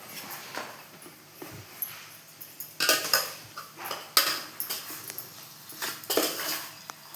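Mashed boiled potato being stirred into an oil tempering of onion and green chili in a pan for puri sagu, with irregular close scraping and clinking of a spoon against the pan and no talking.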